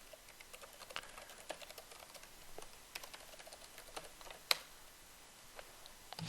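Quiet clicking of keys on a computer keyboard during a login, with irregular taps and one sharper keystroke partway through; no talking.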